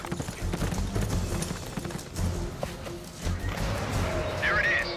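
Video game horse hooves clip-clop in a steady trotting rhythm, with people talking over it and a brief high whinny-like sound near the end.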